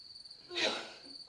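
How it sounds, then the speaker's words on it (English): Crickets chirping in a steady high continuous trill, briefly masked by a short breathy burst of noise in the middle. "Okay, you can cut out the cricket sounds now."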